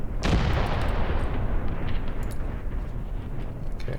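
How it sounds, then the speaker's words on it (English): Artillery fire in the war game Graviteam Tactics, a heavy boom near the start followed by a long rumbling roll of explosions that slowly fades, loud and with no talk over it. "I have artillery dropping on that"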